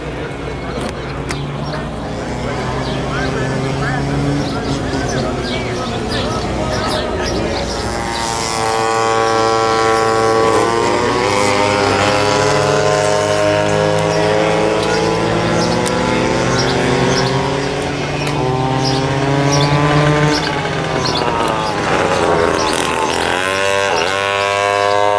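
Vintage racing karts with Yamaha engines buzz loudly nearby, several high-revving two-stroke engines rising and falling in pitch as they pass, with a voice talking over the noise.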